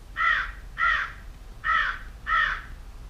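Crow cawing played back through a Google Home smart speaker: four evenly spaced harsh caws, clear and fairly close, over quiet room hiss.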